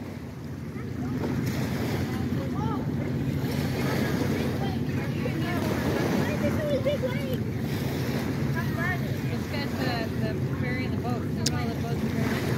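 Ferry engines rumble low and steady as the boat departs, heard from the beach beneath continuous surf wash and gusting wind buffeting the microphone.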